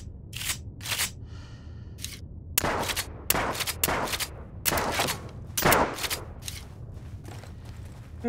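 Shotguns firing in the video game Zed Zone, a series of sharp, loud blasts in uneven bursts with short gaps and brief mechanical clicks between them.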